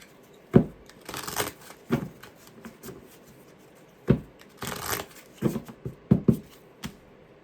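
Tarot cards are shuffled by hand in short bursts, with papery riffles and crisp slaps separated by brief pauses, close and moderately loud, no talking.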